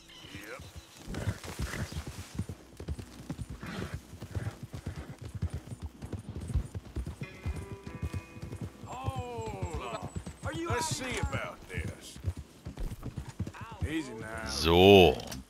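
A horse's hooves clip-clop in a rhythmic trot through Red Dead Redemption 2, with game music and effects rising over the hoofbeats and someone talking throughout.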